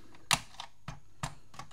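Sticky membrane keys on a MAGIC-06 ZX Spectrum clone are pressed one at a time, giving a few soft, dull taps spaced irregularly in a quiet room.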